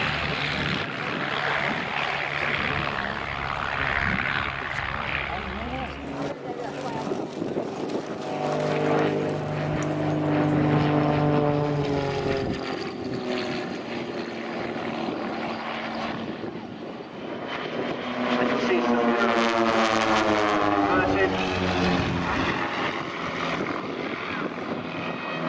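Propeller aircraft at the Shoreham airshow, engine drone rising and falling as planes pass, loud and sustained, with an announcer talking over it in places.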